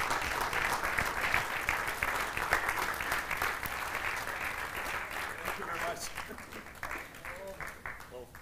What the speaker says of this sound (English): Big round of applause Latvia.